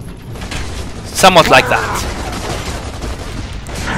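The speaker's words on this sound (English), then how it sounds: "just lob a grenade at them" A short burst of gunfire and explosive combat noise from a grenade fight in Gears of War 3, lasting about half a second in the middle, with someone talking before and after.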